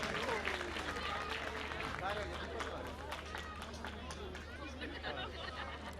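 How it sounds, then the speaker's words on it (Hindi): An audience at a bhajan evening claps in a lively, sustained burst, with crowd chatter and voices mixed into the applause. "एक बार जोरदार ताली भाई साहब के लिए।"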